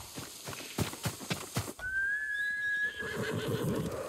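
A horse in Ghost of Tsushima gives one loud, clear whinny right after a short run of hoof clip-clops, all close and in the foreground, with game ambience underneath.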